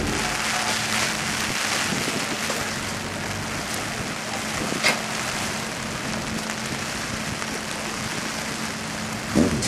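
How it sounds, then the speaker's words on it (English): Hard rain at a wet race track at Oulton Park, a steady broadband hiss with no break, plus a couple of brief knocks, and no voices. "It was raining quite hard."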